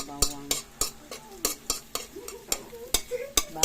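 Garlic sautés in a pan for a mussel dish, with steady sizzling under rapid, regular clacks of a utensil scraping and tapping the pan about three times a second, close and fairly loud.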